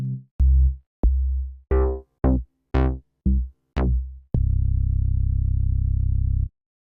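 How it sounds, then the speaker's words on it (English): Deep analog bass shots sampled from a Mochakk synth sound one after another, a series of short, punchy, decaying low notes at varied pitches, ending in one long sustained buzzy bass tone. "Then we have some analog bass shots which were sampled from our Mochakk and sound something like"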